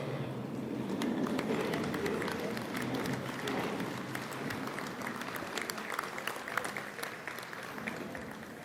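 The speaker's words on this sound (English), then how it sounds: "would you please stand at this time for a round of applause?" A standing audience gives a sustained round of applause at a National Softball Hall of Fame induction ceremony, dense steady clapping filling the hall for the whole stretch.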